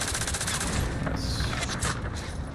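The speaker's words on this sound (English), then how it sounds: "Oh god, I'm getting sniped at still." Sniper gunfire in Call of Duty Warzone, a dense continuous stretch of loud in-game shooting and blasts with no clear gaps between shots, with faint voices barely present underneath.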